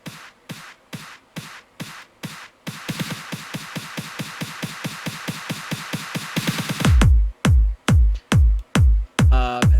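Electronic snare roll in an FL Studio beat, hits growing quicker and denser over eight bars before giving way to heavy booming kick hits and a brief buzzy fill, loud and without talk.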